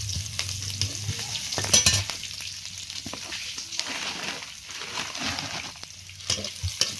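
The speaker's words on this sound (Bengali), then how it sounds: "শাকটা ভাজবো।" Leafy greens fry in a pan and are stirred, giving a close, moderate sizzle broken by scraping stir strokes and a few sharper clinks, with no voices.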